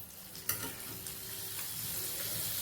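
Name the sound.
butter sizzling in a hot pan on the stove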